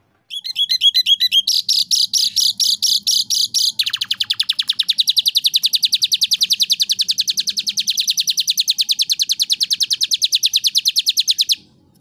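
A mature songbird chirps continuously and loudly, first in quick varied phrases, then a long rapid series of repeated high notes.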